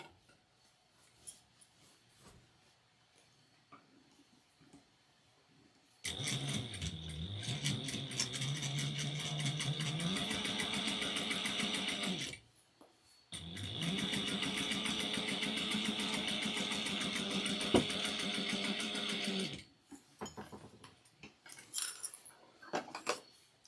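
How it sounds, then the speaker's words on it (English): Sewing machine top stitching along the bottom of a shoulder bag, running in two long, steady whirring stretches separated by a brief pause, with quiet handling clicks before and after. "we're going to lift everything up and top stitch the bottom"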